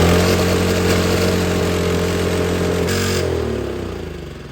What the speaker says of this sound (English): I've cleaned the carburetor out and it starts.